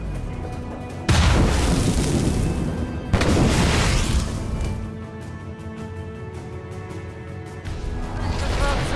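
Grenade explosions in the naval combat of the video game Assassin's Creed Rogue: two loud, heavy booms a couple of seconds apart, each with a long rumbling tail, followed by lingering battle noise.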